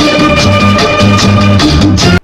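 Spanish-style plucked strings, banjo or ukulele-like, in a song interlude: a steady rhythmic strummed pattern with a bouncing bass underneath, loud and bright, cutting off abruptly at the end.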